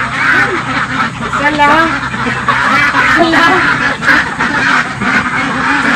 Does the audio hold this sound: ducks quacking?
yes